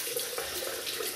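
Water running steadily from a bathroom tap to rinse a double-edge safety razor, a close, continuous splashing hiss with no speech.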